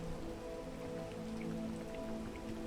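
Rain falls steadily in the climbing video game PEAK, a soft, even patter of drops on surfaces that stays constant and fairly quiet throughout, with no voices over it.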